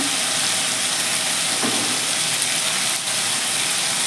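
Spices, green chillies and fried coconut sizzle and crackle steadily in hot oil in a pan, cooked for a vegetarian potato, pumpkin and pointed gourd chokka; a dense, loud, continuous frying hiss close by, with faint stirring.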